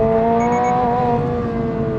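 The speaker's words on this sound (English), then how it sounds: "it's so controllable and it likes to rev" Toyota GR86 boxer engine revving hard under load while driving on a twisty road, a loud steady engine note with strong harmonics held close and alone throughout.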